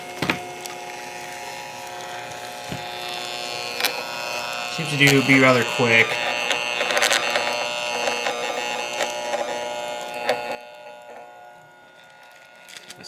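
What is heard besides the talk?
tattoo stencil printer printing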